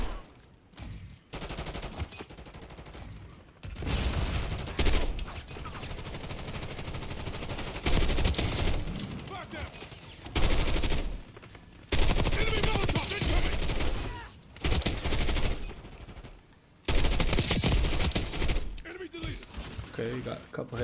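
Gunfire from a first-person shooter video game landing headshots, bursts of rapid close shots in several clusters separated by quieter gaps, with someone talking over much of it.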